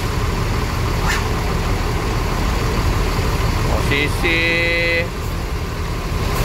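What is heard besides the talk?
Rosalia Indah bus manoeuvring in a tight space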